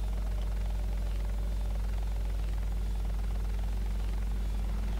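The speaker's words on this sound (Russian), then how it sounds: "Где там у нас вертолет?" A helicopter in the video game Hostile Waters gives a steady, continuous engine and rotor drone that holds at an even level throughout, with no voices over it.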